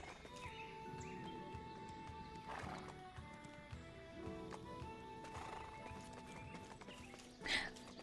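A horse in the Black Desert video game clip-clops along and gives a couple of whinnying neighs, the strongest near the end, over a steady game soundtrack.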